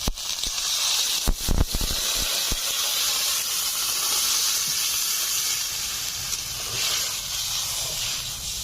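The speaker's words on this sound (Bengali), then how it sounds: "চালগুলো ভাজা ভাজা হয়ে গেছে। এখন দিয়ে দিচ্ছি জল।" Water poured onto hot fried rice in a pan, a sudden burst of clattering followed by a strong, sustained steam hiss that stays loud and even throughout, with no talking.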